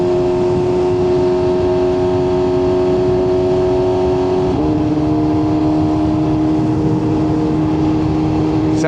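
A BMW M3's engine holds a steady, droning note and then shifts pitch partway through, heard continuously with a constant hum and no talking.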